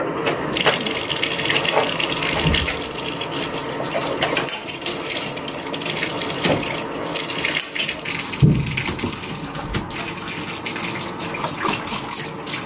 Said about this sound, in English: Are you playing in the bathtub, Layla?